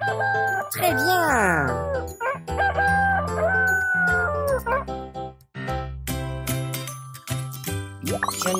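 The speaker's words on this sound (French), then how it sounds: "C'est le coq." A rooster crows in repeated rising and falling calls, close and clear, set among bright chimes and tinkling jingles with a voice speaking over parts of it.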